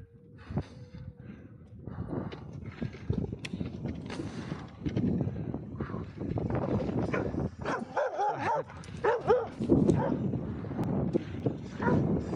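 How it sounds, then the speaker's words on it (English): Mean dogs barking outdoors on a muddy run, with repeated bow-wow barks and some yips and whimpers over steady ambient noise. The barks continue throughout, sometimes near, and no talk is heard. "Mean dogs, mean dogs."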